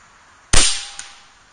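An Air Venturi Avenger .25 air rifle fires a single sharp, loud crack with a quickly decaying tail, followed by a faint tick about half a second later, otherwise near silence.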